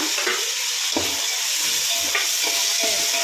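Onion, green chilli and tomato sizzle steadily in a pan while a spoon stirs them, with a continuous bright frying hiss and occasional soft scrapes of the stirring, close and even, with no voices.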